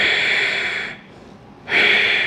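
Strong, forceful pranayama breaths through the nose during a yoga stretch, two long hissing exhales split by a short pause, close, loud and without talk.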